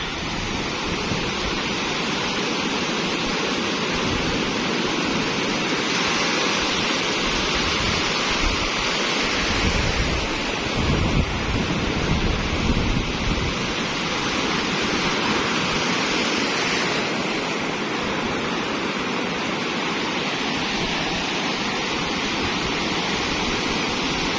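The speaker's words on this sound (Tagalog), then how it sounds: "Tama na po ang alon," Constant roaring wash of ocean waves, loud and close, with surging swells rising and falling over the whole stretch.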